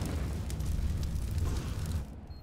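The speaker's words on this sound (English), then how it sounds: "Throwing a grenade." A grenade blows up in Counter-Strike: Global Offensive, giving a dense, rumbling blast that fills the whole moment and then cuts off abruptly.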